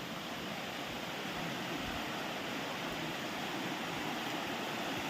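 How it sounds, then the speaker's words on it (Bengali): A waterfall pours down a rocky course into the stream below, giving a steady, full-bodied rush of falling water that holds at an even level throughout, with no voices. "এই সব এই সেই এখান থেকে ঝর্ণার পানি আসতেছে"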